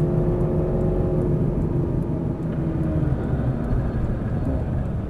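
A Ferrari 430 Scuderia drives on a track, its engine giving a steady, fairly loud droning hum throughout with no clear revving peaks and no voices.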